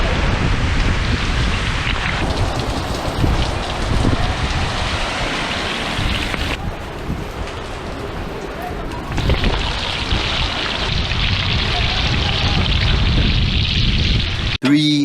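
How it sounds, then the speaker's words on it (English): Steady rain patters and hisses on surfaces throughout in Florida, briefly softer in the middle, with faint background activity. "now on our way back to the car, half a mile, it's raining"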